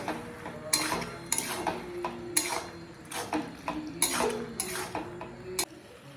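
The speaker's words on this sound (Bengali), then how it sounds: "তো পাস্তাটা আমরা ভালো করে মিশিয়ে নেব।" A spoon scrapes and clatters around a pan while gravy pasta is stirred and mixed, a steady run of close metallic knocks and scrapes with no talking.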